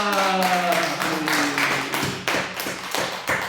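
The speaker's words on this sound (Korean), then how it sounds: "예수에게 박수 한번 쳐봐요." A church congregation claps in a quick, uneven burst during a Sunday service, the claps loud and close, while a sustained musical tone fades beneath them.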